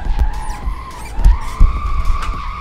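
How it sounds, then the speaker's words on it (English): A car spins out in Assetto Corsa with loud, sustained tire squeal and skidding over engine noise, with a few low thumps as the car slides sideways in traffic. "I did that intentionally to show you that I can spin out and still not crash"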